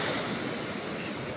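Typhoon-driven sea surf pounds against a seawall in heavy rain, a loud, rumbling continuous wash of crashing water filling the short stretch.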